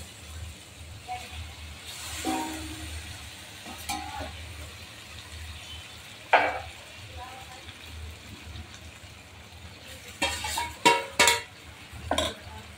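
Pasta tossed into a pan of roasted onion, tomato and spices, with scattered sizzling and stirring scrapes that come in brief bursts under steady low kitchen hum, louder clattering toward the end.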